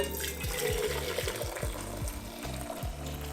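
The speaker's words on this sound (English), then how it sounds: "So I'm pouring my water into my kettle" Water pouring from a tap into a kettle before brewing coffee, a steady splashing stream with a rising fill tone, close and continuous for a few seconds.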